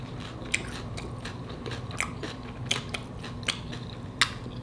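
Close crunchy bites and chewing on homemade salmon tacos with crisp shells, a steady run of sharp crackling crunches over a low murmur of background sound.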